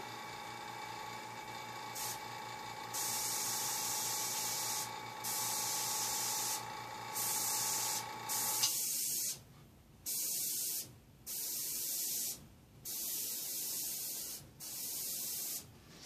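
An airbrush sprays paint for a dragon design, giving a steady close hiss that runs long, then breaks into short repeated bursts with brief pauses between them.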